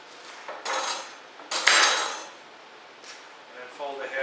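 A knife splits a leek lengthwise on a cutting board, a crisp slicing crunch with a knock against the board, followed by a couple of lighter scraping cuts, close and fairly loud.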